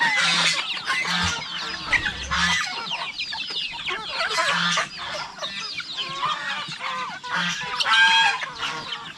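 Chickens cluck and squawk continuously close by, with geese honking among them in a busy farmyard chorus.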